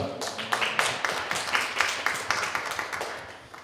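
A church congregation at a Sunday worship service claps in praise with quick, rhythmic beats at a steady pulse, the sound gradually easing off in loudness.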